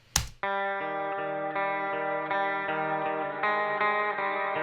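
Sustained lead electric guitar line processed through effects with distortion, chorus and echo, entering after a brief noisy attack and holding bright, harmonically rich notes that shift pitch in steps, loud and alone.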